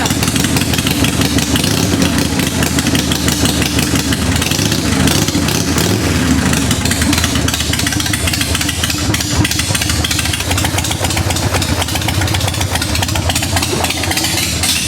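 A 1990 Harley-Davidson motorcycle engine with a newly fitted CV carburetor and new intake manifold and ignition, running steadily at a loud, rumbling idle with a constant throbbing pulse, close by and without talk.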